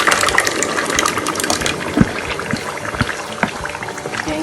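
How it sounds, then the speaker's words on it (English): Tomato added to goat meat frying in oil, giving a loud, close, continuous sizzle and crackle with watery bubbling and scattered pops throughout, no talking. "I'm going to add my tomato."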